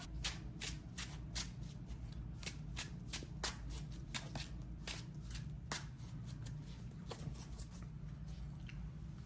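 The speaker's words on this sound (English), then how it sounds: "So I'm gonna quickly shuffle the deck" Yu-Gi-Oh trading card deck being riffled and shuffled by hand, a steady run of crisp, close papery flutters and snaps with no talking.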